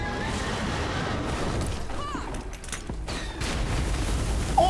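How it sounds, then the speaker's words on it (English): Grenades go off in the video game Flintlock: Siege of Dawn, a few rumbling booms and crashes over constant game noise, with no speech. "I'm gonna throw some grenades at him."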